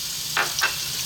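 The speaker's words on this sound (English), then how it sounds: "We're going to drop in our onion" Onion hits hot olive oil with a quick sizzle, two short bursts of hissing over a steady low frying crackle, close by.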